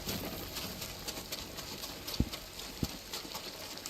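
Horse hooves clip-clop at a steady trotting rhythm in the video game Ghost of Tsushima, fairly quiet and mid-distance, with two sharper hoof thumps standing out near the end.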